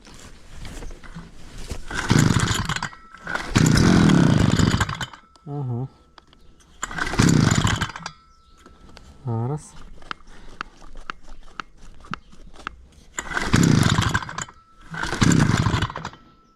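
Gasoline garden power tool engine starting at an overgrown country plot, with several loud bursts of motor roar between pull-start attempts and quieter stretches where someone talks.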